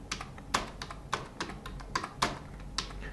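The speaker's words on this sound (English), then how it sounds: "just hitting the S key and then period to jump forward" Keys struck on a computer keyboard, a handful of separate clicks at irregular intervals, close and fairly clear, with no talking.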